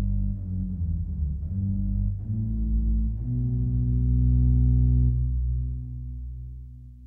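Subbass and gedekt 8-foot pedal stops on a Clavis 125 organ hold deep, sustained bass tones, several notes moving in sequence and ringing loud and steady, with no voices.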